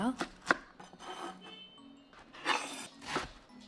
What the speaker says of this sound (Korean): 청양고추는 잘게 송송 다져주세요.